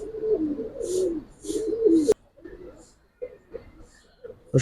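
Female pigeons coo in a low, rolling rhythm up close, a few bursts early that give way to softer, scattered coos, with someone speaking over them.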